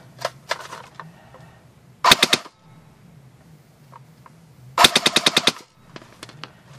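A Cybergun M14 Socom airsoft electric gun fires full auto in two loud, rapid bursts of roughly eight shots each, with a few scattered single shots early on and quiet pauses between.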